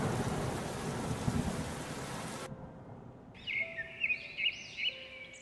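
A dense wash of heavy rain roars for a couple of seconds, then cuts to quieter ambience with tonal rumbling and whistling swells, like a stylized thunderstorm in an animated story.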